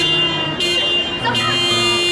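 A car horn sounds in a sustained, loud blare with a brief break and a second long honk, close by, while voices talk over it in a comedy sketch.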